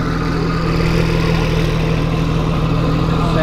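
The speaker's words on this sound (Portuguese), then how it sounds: "Olha o escapamento." A Porsche exhaust rumbles steadily at idle, a deep, even drone close by with no other sounds.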